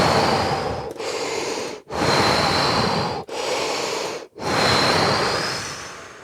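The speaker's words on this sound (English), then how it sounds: "Just do 3 deep breaths." A person doing a deep breathing exercise: several long, deep breaths close to the mic, each a sustained airy rush broken by short pauses.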